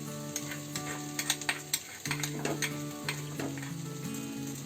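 Spices and masala sizzle in a pan for a village-style chickpea curry while a spoon scrapes and stirs them in repeated strokes, close and steady with no voices.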